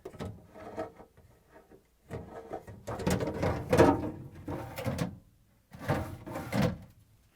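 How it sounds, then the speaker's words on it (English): Plastic meat pan being slid onto the rails inside a Frigidaire/Electrolux refrigerator, a series of scraping, clattering plastic knocks and slides in uneven bursts, close and moderately loud. "now we can slide a new meat pan onto the rails"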